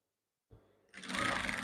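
A sewing machine starts up to stitch palazzo pants fabric, a soft low start that quickly rises into a steady, close, loud mechanical whirr.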